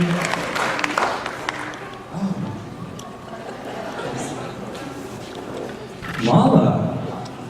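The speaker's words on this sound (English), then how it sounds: "everybody clapping, that's good." A standing audience claps at a college fall convocation, a broad spread of applause beneath ongoing talk from a speaker and crowd murmur.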